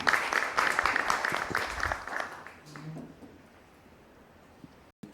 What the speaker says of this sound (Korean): 유지수 총장님을 박수로 맞이해 주시기 바랍니다.